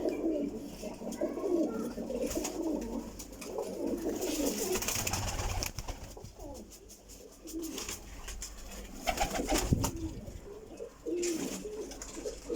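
Pigeons coo repeatedly in low, throaty phrases over a noisy outdoor background, with occasional rustling and faint chirps.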